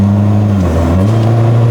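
Modified BMW 118d diesel hatchback accelerating in manual mode, a steady loud engine drone that climbs in pitch as it pulls, heard from inside the car with no talking.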